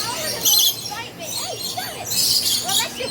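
A bird at Busch Gardens Tampa gives several short chirps and tweets close by, mixed with nearby voices and crowd noise.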